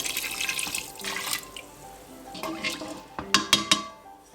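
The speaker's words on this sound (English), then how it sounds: "Going to add 1 liter of water." About one liter of water pours and splashes into a metal pot for lentil soup, with a few clinks of cookware near the end.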